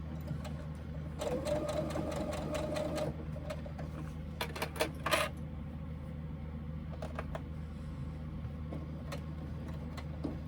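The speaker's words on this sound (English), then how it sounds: "I'm going slow because I'm going over the strap connector" A sewing machine stitches slowly over a thick strap connector, giving bursts of rapid, close mechanical whirring and ticking separated by pauses, over a steady low motor hum, with no talking.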